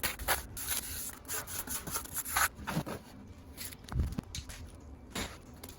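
SikaRepair concrete patch mortar spread and pressed by hand across a damaged floor, giving close, uneven rubbing and scraping strokes with soft gritty smears in an irregular rhythm.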